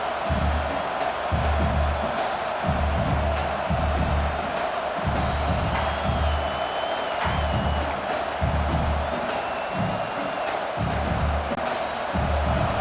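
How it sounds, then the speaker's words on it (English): A stadium crowd roars in the EA Sports College Football 26 video game early in a game, a steady, loud wash of cheering with rhythmic low pulses, like chanting or drums, beneath it. "Listen to the crowd energy here in the early going"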